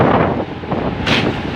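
Strong wind from a low-pressure system roars across an anchorage at sea, buffeting the microphone with loud, steady rushing noise that swells near the end.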